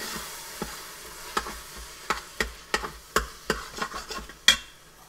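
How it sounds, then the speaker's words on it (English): A spoon scrapes and clacks as canned tomato soup is stirred into sautéed onions in an Instant Pot, about a dozen sharp irregular knocks that grow busier and louder over a low background. "And stir that in"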